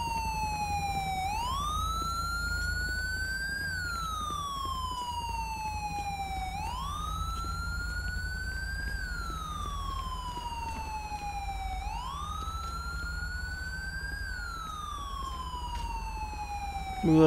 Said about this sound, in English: Somebody's still running siren.